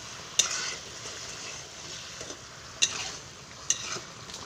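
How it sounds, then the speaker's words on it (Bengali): Boiled eggs stirred into simmering egg curry gravy in a pan, a soft steady bubbling sizzle broken by three sharp spoon clinks against the pan, heard up close. "এর মধ্যে দিয়ে দেবো ডিমগুলো"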